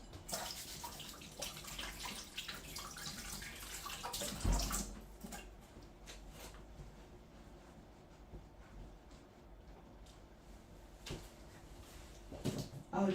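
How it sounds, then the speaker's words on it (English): Running tap water splashing over hands at a sink, a steady wash of water for several seconds that quiets midway, with a few soft knocks and a renewed gush near the end. "Let me wash my hands."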